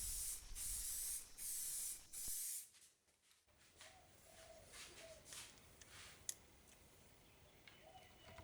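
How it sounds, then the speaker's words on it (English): Three long hissing bursts of clear acrylic automotive top coat spray onto a carbon fibre tail light part, then the can stops and faint clicks and handling noises follow in a quiet workshop. "Here I'm using some clear acrylic top coat, normally used in the automotive industry, to just bring out that lovely carbon fibre look."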